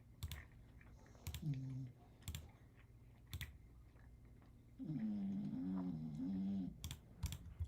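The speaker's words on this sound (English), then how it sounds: "that snoring sound in the background is not one of my kids" An English bulldog snores in the background, two long, rough, buzzing breaths a few seconds apart, heard faintly under irregular clicks of keyboard typing in a quiet room.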